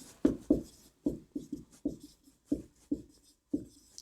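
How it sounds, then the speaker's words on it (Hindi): Chalk writing on a board during a semiconductor lecture: about nine sharp taps and short scratching strokes in an uneven rhythm, close and clear, with no voices over them. "मैं इधर आपके सामने लिख देता हूँ।"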